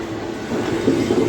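Steady, close rumble of an Ahmedabad–Mumbai express train running fast on the rails, a continuous rolling roar with faint wheel clatter and no voices.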